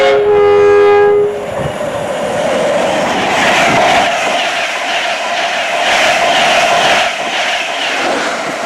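A CrossCountry passenger train on the North Berwick Line near Wallyford gives a loud two-tone horn blast at the start, then rolls past with a steady, broad rumble and rail clatter that stays close and loud to the end.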